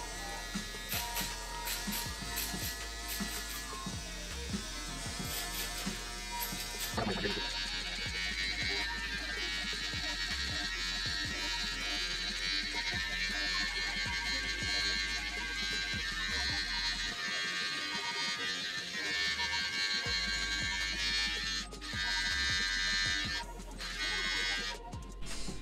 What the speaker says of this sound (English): I can go ahead and use my shaver right underneath that line.